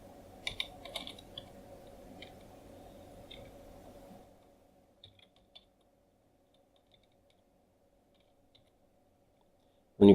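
Typing on a computer keyboard while entering data into an Excel spreadsheet cell, a quick burst of clicking keystrokes at the start, then a few sparse isolated key taps and a louder click at the end, close and fairly quiet.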